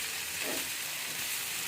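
Drumstick leaves frying in a pan while being stirred: a constant close sizzle and hiss of hot oil with faint scraping movement, no voices.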